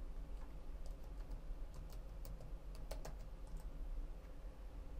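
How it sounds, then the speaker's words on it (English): A few soft keystrokes clatter on a computer keyboard as a command is typed into a Linux terminal, quiet and close with a faint steady hum underneath. "So to check this, type the ifconfig command."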